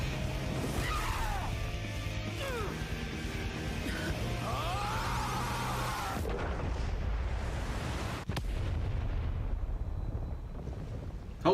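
Explosions in an animated superhero fight, Captain Marvel versus Shazam, heard as loud booming blasts and crashes over a dense roaring soundtrack, with sharp whooshes and a sudden burst near the end.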